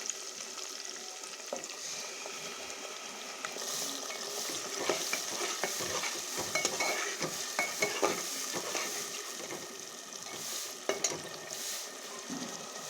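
Ground spice paste of cumin and green chilli frying with onions for a mutton curry, a busy close sizzle with frequent rhythmic scraping and stirring against the pan.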